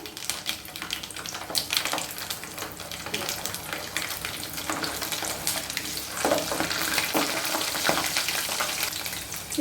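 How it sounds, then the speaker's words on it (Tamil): Small shallots and garlic fry in oil after mustard seeds have spluttered, a loud, steady, crackling sizzle that runs the whole time, with faint stirring beneath and no talking. "கடுகு பொறிஞ்சிட்டு இப்போ இந்த சின்ன வெங்காயத்தையும் பூண்டையும் போட்டுருவோம்"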